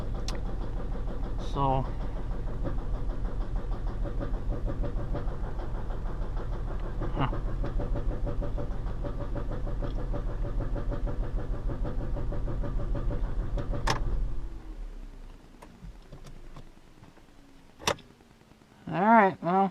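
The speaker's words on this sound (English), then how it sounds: "the car did fire up. She's just not running too healthy this time" A car engine idles roughly just after starting, a loud close rumble with uneven pulses that runs for about fourteen seconds and then stops, leaving a faint radio and brief talk.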